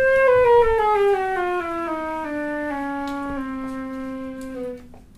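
A flute plays a descending run of clear, sustained notes, stepping lower one by one as more keys are pressed, then settling on a long low tone before breaking off; solo and close.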